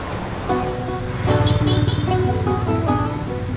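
A steady engine drone with water rushing beneath as a boat motors along the Mekong River, with a faint tonal hum and constant wind-like wash.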